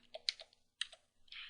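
Short burst of keystrokes on a computer keyboard, a few sharp clicks in quick succession with brief pauses, close and quiet.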